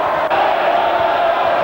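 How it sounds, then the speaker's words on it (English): A Wigan rugby league crowd at a cup tie against Leeds roars as their team takes the lead. The roar is a loud, dense wall of voices that holds steady from start to finish. "Great roar from the Wigan crowd"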